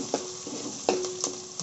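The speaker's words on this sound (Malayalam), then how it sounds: "വഴറ്റി എടുക്കുക." Green chilies, curry leaves, onion and ginger sauté in oil with fried mustard seeds for a chicken curry: a soft sizzle broken by a few sharp stirring scrapes and clicks of a utensil against the pan.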